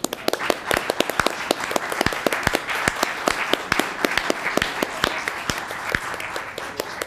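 An audience at a 2012 California congressional district debate claps for League of Women Voters volunteers, a fairly thin, uneven patter of individual claps, moderately loud and sustained.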